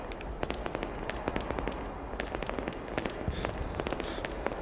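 Machine gun fire in a retro video game, rapid crackling bursts of shots running continuously, fairly dense and even, with no talk over it.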